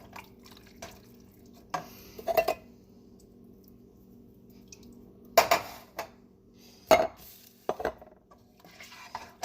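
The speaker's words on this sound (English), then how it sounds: "diced tomatoes, and you're going to stir it all together" A spoon stirs a pot of turkey chili with diced tomatoes. Sporadic clinks and scrapes sound against the pot over a quiet background.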